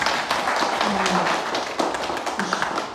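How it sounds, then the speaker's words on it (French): An audience at a community talk in Ottawa applauds for a woman named Bettina, a steady patter of many hands at moderate loudness with voices murmuring beneath it. "on applaudit Bettina"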